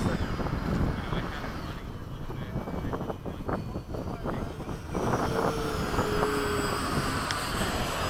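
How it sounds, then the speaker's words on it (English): An E-flite 80mm F-4 electric ducted-fan RC jet flies overhead in formation with other models, a steady whooshing engine roar that rises and falls as it passes, with wind buffeting and occasional talk mixed in. "that F-4 sounds sweet."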